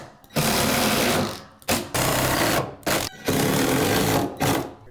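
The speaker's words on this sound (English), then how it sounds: "1 3/4 construction screws and screw all this down." A power drill drives 1 3/4-inch construction screws into wood while a mudroom closet and bench are built. Loud, steady whirring runs in several long bursts, each cutting off briefly before the next screw starts.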